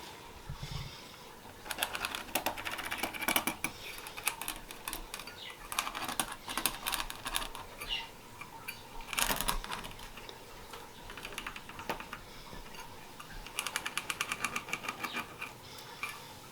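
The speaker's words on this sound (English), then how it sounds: "I'm going to be doing some circles and some rectangles, so I'm going to cut those out now" Scissors snip through fabric, cutting circles and rectangles for beeswax food wraps, in quiet irregular bursts of close, crisp clicking with short pauses between runs.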